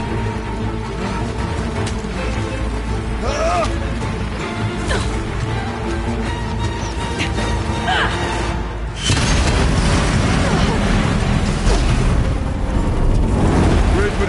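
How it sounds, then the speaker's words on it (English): A bomb explodes in Horizon Zero Dawn's Frozen Wilds. A loud, broad boom partway through is followed by a sustained rumble, layered over game noise and voices speaking. "I need explosive ammo! A bomb!"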